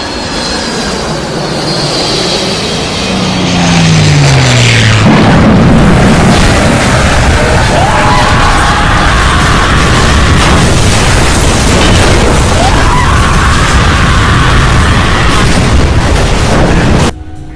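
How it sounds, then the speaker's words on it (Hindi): A cartoon plane crashes in a jungle: a descending whistle gives way to a loud, sustained roaring rumble of engine and impact that fills the scene before cutting off abruptly. "विमान एक जंगल में दुर्घटनाग्रस्त हो गया।"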